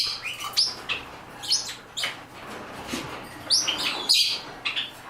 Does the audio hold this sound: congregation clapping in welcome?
no